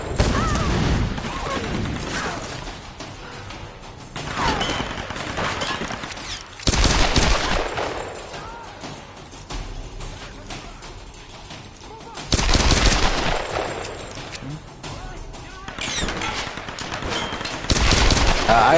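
Gunfire in Tomb Raider (2013): several loud bursts of rapid shots separated by quieter stretches of mechanical game sound, with the bursts recurring every few seconds.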